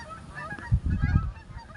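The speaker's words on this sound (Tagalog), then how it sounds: "Ingay ng mga ibon," Several birds honk and call in a noisy burst, fairly close, with low throaty cries overlapping for about a second before fading back.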